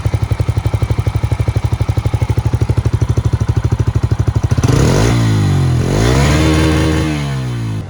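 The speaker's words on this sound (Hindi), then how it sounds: "सुनते हैं इसका एग्जॉस्ट साउंड, फिर चलेंगे एक राइड पर।" A Bajaj Freedom 125cc single-cylinder dual-fuel CNG motorcycle idles with a fast, even exhaust thump, then is revved up into a louder, rising roar that falls and climbs again.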